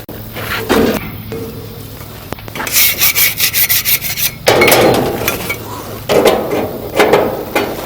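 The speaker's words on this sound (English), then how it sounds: "I'm just going to scrape them off inside the grease pan and put them back into place as well" Metal grill flame tamers being scraped inside a grill's grease pan during winter cleaning, loud close rasping strokes in quick rhythmic bursts with brief pauses and clanks between passes.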